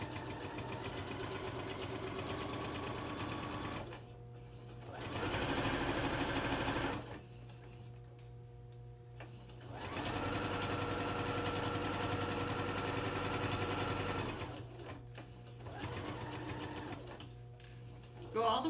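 A sewing machine stitches a fabric bin seam, steady mechanical whirring bursts of needle chatter broken by short pauses, with back stitches at the ends, heard close and alone.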